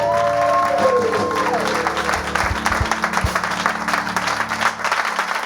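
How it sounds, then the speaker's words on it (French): A studio audience on a French religious testimony programme applauds in a steady, dense wash of clapping beneath a music bed, with a voice audible over it. "acclamation."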